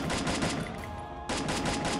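Bursts of automatic gunfire in the battle-royale game Free Fire, two dense volleys separated by a short gap, loud and close with no talk.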